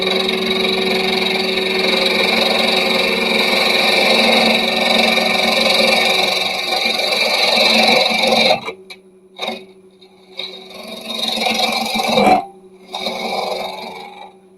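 A wood lathe spins with a steady whirring drone while a small bore gouge cuts; the tool noise then breaks into short scraping bursts separated by near-quiet pauses.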